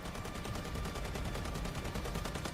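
Rapid automatic gunfire in the space game Elite Dangerous rattles in a dense, even burst of repeated shots, loud and continuous throughout, with no talking.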